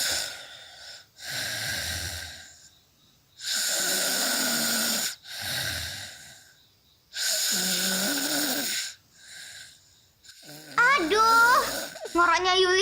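A sleeping girl snores during a midnight neighbourhood watch, several long, loud, rasping snore breaths repeating in a slow rhythm, with a few short squeaky sounds at the end.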